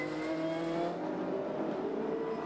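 Touring race cars at full speed at Amaroo Park in 1992, including the Winfield Nissan, engines revving hard and roaring past close by, with sustained, steady high-pitched engine tones and no talk.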